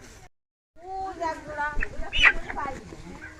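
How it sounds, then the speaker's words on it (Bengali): Chickens cluck at a festive family gathering, a run of short, rising clucks and squawks near at hand, with people talking over and between them. "মুরগি"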